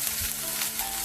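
Chopped onion and curry leaves sizzle and crackle steadily in hot oil as they are stirred and sautéed for upma, a close, continuous frying hiss with no voices.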